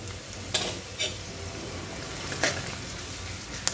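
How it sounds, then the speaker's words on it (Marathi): Browned onion with turmeric and chili powder sautés in a pan, a soft steady sizzle under several sharp spoon-against-pan stirring clinks. "2 मिनटं परतून घ्यायचं याला"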